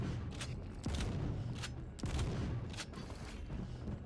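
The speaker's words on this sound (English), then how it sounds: "Next weapon is the super shotgun. Instant hit, slow reload, big spread." Super shotgun in the video game Quake Champions, fired repeatedly as heavy booming blasts at roughly one-second intervals over a continuous rumbling game background, fairly faint overall.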